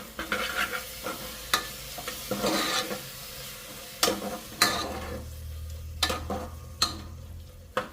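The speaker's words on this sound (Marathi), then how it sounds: "आता आपण छान प्रकारे मिक्स करून घेऊया" Spices being mixed in a hot pan for a green pea curry, with repeated sharp spoon scrapes and knocks against the pan over a low sizzle, close and irregular, with no talking.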